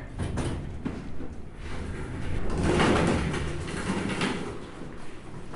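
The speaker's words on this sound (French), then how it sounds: "Ouverture des portes." Elevator doors slide open with a soft, steady mechanical rumble that swells in the middle and fades, close by, with no talk over it.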